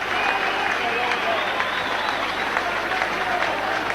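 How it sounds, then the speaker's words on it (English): Rugby league crowd of Widnes fans applauding a player during the Regal Trophy final against Leeds, a dense steady roar of clapping from a large stadium audience lasting throughout, with crowd noise and commentary speech underneath. "And it's a huge round of applause for Holiday."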